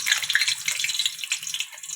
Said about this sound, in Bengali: তেল গরম হয়ে গেছে, আলুগুলো ভেজে নেবো।